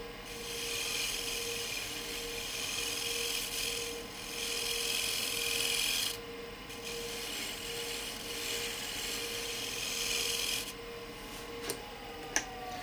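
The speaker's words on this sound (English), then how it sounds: "go with the spindle gouge here as well." A spindle gouge cuts wood spinning on a lathe. A steady, loud rasping scrape runs almost continuously, with brief dips and changes in tone as the tool moves, and one sharp click near the end.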